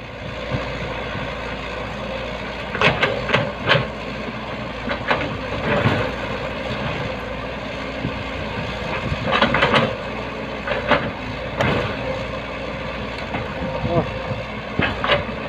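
A truck-mounted drilling rig bores into hard, rocky ground in Surin, a loud, steady mechanical drone with recurring rougher bursts, while people talk over it.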